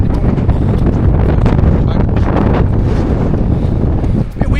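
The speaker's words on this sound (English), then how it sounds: "Bit windy, as you can hear." Strong wind buffets the microphone on the open deck of a boat in choppy water, a constant loud rushing roar with gusty bursts and no clear speech.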